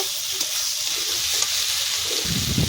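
Spicy ribbonfish curry with potato and tomato sizzles steadily in a hot pan, a close bright frying hiss. A louder, rougher bubbling surge comes near the end as water is poured in.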